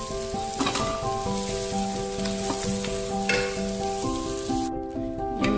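Mackerel pieces frying in oil for a Kerala-style roast, a loud, continuous crackling sizzle close up, with steady spitting and a few sharper pops, no voices.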